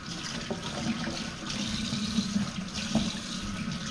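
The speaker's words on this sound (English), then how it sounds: "Coriander, quick rinse" Tap water runs steadily into a sink while coriander is rinsed under it, a soft, continuous splashing hiss with small irregular splats, fairly close and with no talk.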